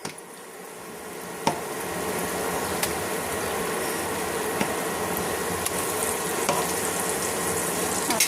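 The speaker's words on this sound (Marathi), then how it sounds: "ते वाटण टाकते." Ground spice paste for an eggplant (brinjal) curry hits hot oil in a pan with onion and tomato, producing a steady, close hiss of frying with a few sharp crackles and pops.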